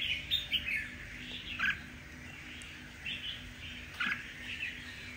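Red-whiskered bulbuls from Cao Bang give several short, bright chirps spaced through the clip over a low steady hum, moderately near but not loud.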